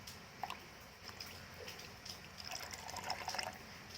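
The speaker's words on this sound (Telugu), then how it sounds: "ఇప్పుడైతే పాలు పోస్తున్నాను" Milk is poured into homemade beetroot juice as a soft, faint liquid trickle and gentle splashing, quiet and steady, close by with no speech.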